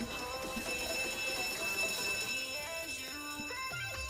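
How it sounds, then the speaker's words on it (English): An alarm triggered in the Roblox game Jailbreak sounds as a steady electronic tone pattern, loud and continuous, mixed with stepping game music throughout. "Bro, triggered the alarm."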